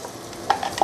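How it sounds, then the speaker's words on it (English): Spices sauté in hot oil in a pan for a curry of vegetables and tofu puffs, heard as a brief, soft sizzle with a few sharp clinks of stirring near the end. "We're going to saute all these spices for a couple of minutes before we continue."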